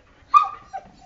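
A dog gives a single sharp yip-like bark followed by a shorter second yelp, brief and close in a quiet yard with no talking.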